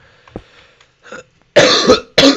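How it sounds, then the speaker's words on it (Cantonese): A couple of harsh, forceful coughs burst out close up after a few faint softer sounds, the second cough short and abrupt. "聽到咳啊！"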